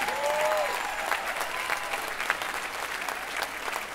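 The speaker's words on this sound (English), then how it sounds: "Keep that applause going." Audience applause for a jazz band after a tribute set, dense clapping from a crowd with a few sharper claps standing out and a brief voice at the start.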